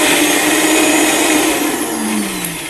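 A kitchen blender purées a salsa of serrano chiles, onion, garlic, cilantro and chicken bouillon, giving a loud, steady, close-up whirring roar that eases slightly near the end, with no talking.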